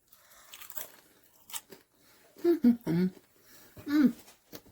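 Someone bites into crispy pierogi baked on a sheet pan with kielbasa, giving a few close, sharp crunches and chewing bursts, with faint vocal sounds in between.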